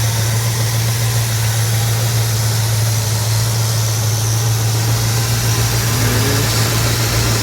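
A 1963 Chevrolet Nova SS with a 327 V8, Edelbrock high-rise manifold and electronic ignition, idling up close with a steady, loud low hum and constant rumble, a brief voice in passing.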